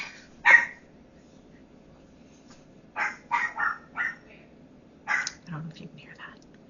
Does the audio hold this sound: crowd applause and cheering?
no